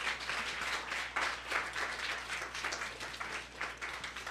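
A host plays a recorded applause sound effect during a Université de Sherbrooke discoveries event: steady, dense crowd clapping that carries evenly at moderate volume for the whole stretch, with no voices.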